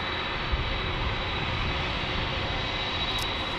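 Embraer E175 jet at San Diego airport, a constant rushing engine roar with a faint high whine, steady and fairly loud, no talk.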